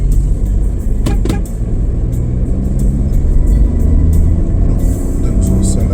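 A car with a strong engine accelerates hard away from a stop, giving a loud, sustained rumble of engine and road noise that runs through the whole stretch. A voice speaks over it.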